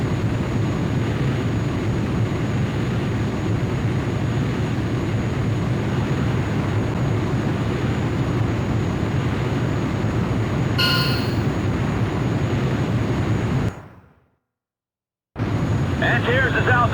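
Squadron of aircraft taking off, a loud steady roar of engines sustained close by, a brief higher-pitched whine near the end, then a sudden cut to silence before the rumble returns.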